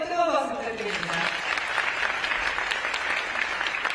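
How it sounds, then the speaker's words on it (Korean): An audience applauds a prime minister's keynote address at a conference, steady dense clapping that fills the hall, with an amplified voice speaking briefly at the start. "총리님께 다시 한번 뜨거운 박수 부탁드립니다."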